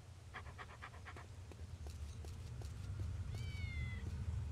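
A cat used as a gun silencer in the video game Postal 2 gives a faint, short meow near the end, over a low, quiet background hum.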